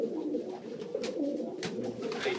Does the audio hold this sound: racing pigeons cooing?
yes